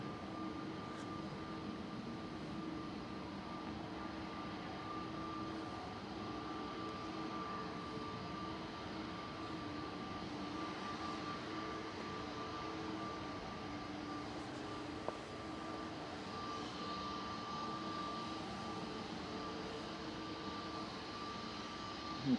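Aer Lingus Airbus A330 taxiing for departure at Manchester Airport, a faint, steady jet engine whine and low rumble that holds constant over the whole stretch.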